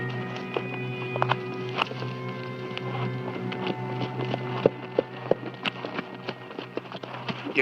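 Horse hooves clip-clopping on hard ground in a Western drama, a steady, fairly quiet rhythmic patter of hoofbeats continuing under a low hum.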